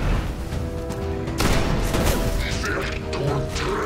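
Sci-fi weapon fire in the first-person shooter Destiny, loud booming shots over dense game music and effects, with a voice talking during the action.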